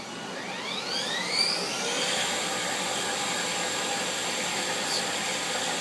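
A 1991 Haas VF-1 vertical machining center's spindle running in high gear at 5000 RPM gives a steady, fairly quiet whirring hum, with a rising whine early on before it settles into a constant tone.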